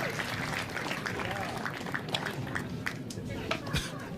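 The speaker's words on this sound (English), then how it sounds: "crowd is definitely appreciative" Crowd applause after a point at a professional pickleball match at the Carvana Masters, a steady patter of clapping with scattered sharper claps, moderately loud, with a commentator talking over it.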